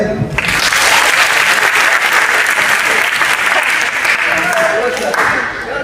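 Loud, sustained audience applause at a Mumbai fan meetup, a dense, even roar of many hands clapping that holds for several seconds before easing, with some voices underneath.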